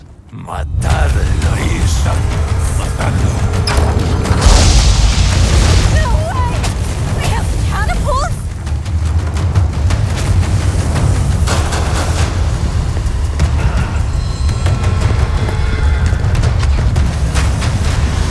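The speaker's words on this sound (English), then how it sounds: "These bastards have cannons." Cannon fire thunders through a Resident Evil 4 Remake fight, heavy booms rolling into a loud, continuous roar of blasts and rumbling debris that stays dense and close for the whole stretch, with no voices on top.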